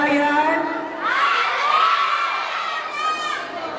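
A crowd of fans at a celebrity arrival and ticket-selling event shouting and cheering loudly, high excited voices rising and falling in waves with screams near and close.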